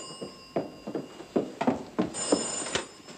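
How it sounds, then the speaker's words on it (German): An old telephone bell in an Austrian inn rings in a series of short, evenly spaced bursts, moderately close, with a faint steady tone behind and no talk. "Toni ans Telefon"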